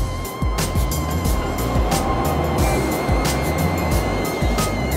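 A Ford Aspire car accelerates hard in third gear from 60 to 80, its engine note droning steadily throughout, with road and wind noise close and loud inside the cabin.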